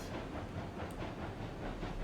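Double Heisler geared steam locomotive rolling on rails in RailRoads Online, a dense, steady rumble of rolling wheels and clanking with a brief hiss, loud and continuous, no talking.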